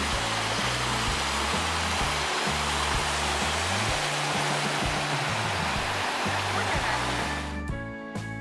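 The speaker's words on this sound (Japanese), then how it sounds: "阿波クランドーラの吉井川の清流がとても綺麗でした" Steady rushing water of the clear Yoshii River stream in Nishiawakura, northern Okayama, fills the scene, a continuous broad hiss with low rumbling underneath, fading slightly near the end.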